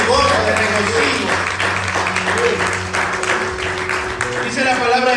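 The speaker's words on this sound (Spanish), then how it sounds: "Dale un aplauso al Señor." Applause from a church congregation, a dense burst of clapping that stays loud through the whole stretch, mixed with voices and a steady musical hum underneath.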